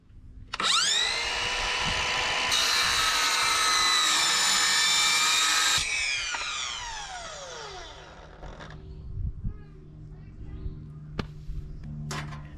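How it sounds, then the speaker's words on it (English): A battery-powered Ryobi 18-volt 7 1/4-inch chop saw fitted with a Diablo Steel Demon blade spins up loud and close, holds a steady high whine through a cut for about five seconds, then winds down with a descending tone and a few clicks. "I'm on the 7 1/4-inch chop saw made by Ryobi. It runs off of an 18-volt battery."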